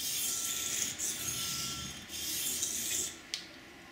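A knife blade scrapes across a sharpening stone in steady heel-to-toe passes, a close, soft rasping rub repeating in long strokes.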